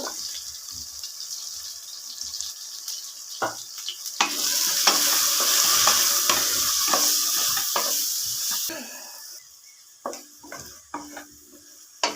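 Spices with coriander powder, asafoetida and salt are sautéed in a pan for green gram rice. A spoon scrapes and stirs against the pan, and a loud, steady sizzle rises in the middle and then fades back to scattered stirring.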